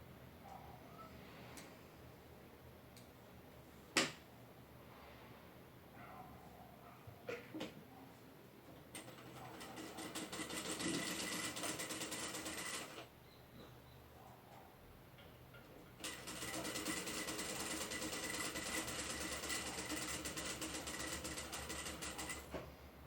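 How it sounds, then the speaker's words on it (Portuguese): A sewing machine stitches a seam around the body of a fabric Easter bunny, running in two long steady bursts with quiet handling clicks and pauses in between. "E agora eu vou vir passando uma costura."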